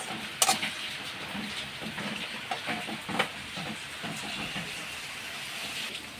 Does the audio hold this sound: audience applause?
no